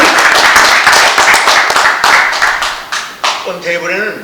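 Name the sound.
audience applause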